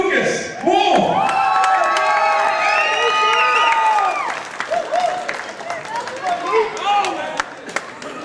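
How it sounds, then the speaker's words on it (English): A crowd at the LCO Bash & Brawl amateur boxing event in 2010 claps, cheers and whistles loudly as a boxer enters the ring, a dense burst that slowly thins into scattered claps and shouts. "Let's give him a big round of applause."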